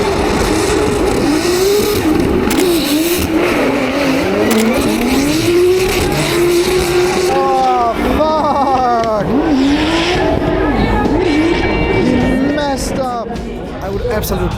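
Two drift cars run in tandem at a Japanese drift event, engines revving loud and continuous with wavering pitch sweeps and tire squeal, heard close throughout.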